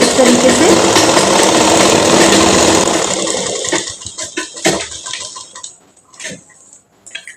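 Sewing machine stitching elastic into an Afghani salwar, a loud steady motor whir for about three seconds, then stopping into quieter handling clicks and fabric rustle.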